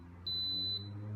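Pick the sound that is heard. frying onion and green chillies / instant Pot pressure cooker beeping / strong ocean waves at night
instant Pot pressure cooker beeping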